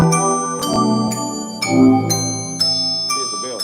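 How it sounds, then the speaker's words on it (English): A bell dings about six times in an uneven rhythm, each clear metallic strike ringing on and overlapping the next, close and fairly loud. "So what's that dinging noise? That's the bell."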